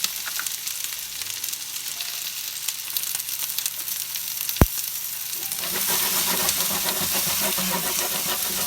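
Potatoes seasoned with pepper fry in a pan with a steady sizzle and get tossed, bringing a single sharp click and then a louder, denser frying hiss near the end, close up.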